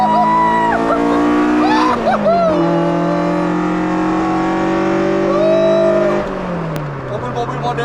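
A Toyota AE86 accelerating hard for a drift on a closed road, the engine note rising in pitch, dropping at a gear shift, then climbing again, loud and close. Voices are faintly audible under it.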